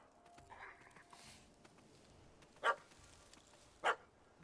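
In The Witcher 3 video game, a puppy gives two sharp barks about a second apart over a quiet ambient background.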